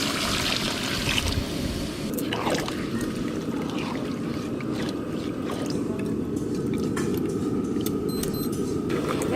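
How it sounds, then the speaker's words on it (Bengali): Water poured into a pan of chicken curry with potatoes and browned meat, a steady continuous splashing pour running close and loud throughout, with light clinks from the pan. "এবার পরিমাণ মতো জল দিয়ে দেবো।"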